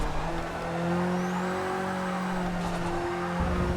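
Tires squeal in a sustained skid as a Nissan Silvia slides in the racing game Forza Motorsport 6, a long tonal screech over the engine drone with a brief break near the end.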